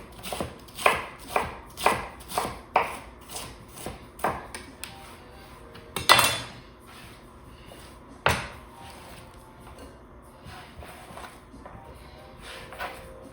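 A knife chops through duck on a cutting board in a series of sharp, close knocks, about a dozen evenly paced strikes early on, then a heavy thud and a few sparser cuts.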